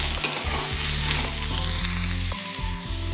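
Sweet corn kernels roast in a pan while being stirred, a loud sizzle with repeated scraping strokes of the spoon at a regular pace, close up and without speech.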